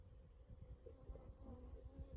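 Honeybees hum around a queen cell on a hive frame, a faint, low, continuous buzz with small swells as individual bees move close by.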